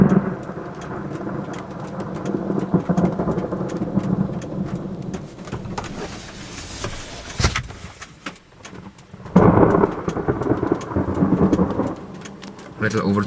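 Thunderstorm with repeated lightning strikes in Florida in summer, heavy rain hissing steadily throughout while deep thunder rumbles and cracks rise and fall, with a loud nearby clap near the end, no voices.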